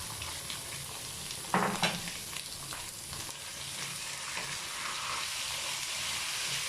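Chicken mince sautéing with light-browned onions in a pan, giving a continuous close sizzle with a brief louder burst of stirring near the start, then a steady hiss, no voices.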